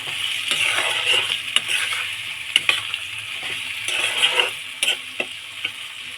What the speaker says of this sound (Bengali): মশলাটা দিয়ে সিমে এবারে খুব অল্প কষাবে